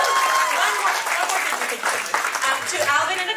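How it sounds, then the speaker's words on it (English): Wedding guests applaud the parents in a sustained burst of many hands clapping, dense and fairly close, with a hint of voices in the crowd. "A big, big round of applause for our parents."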